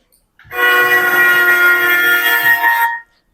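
A pitch-raised synthetic tone from a speaker object in Blender 4.5 imitates a train horn: one loud, sustained, harmonically rich blast lasting about two and a half seconds, heard alone.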